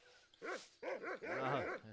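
A cartoon dog in Monkey Island 2 gives a quick run of close, clear barks and yips, three or four short bursts in two seconds, with no talk over them.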